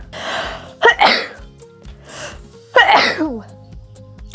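Two loud sneezes, each with a sharp inhaled buildup before the burst, a couple of seconds apart and close to the listener.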